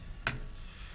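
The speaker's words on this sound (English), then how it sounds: "You hear that nice sizzle?" Crepe batter hits a hot crepe pan greased with cooking spray: one short, bright burst of sizzle, then a faint steady hiss, quiet and close.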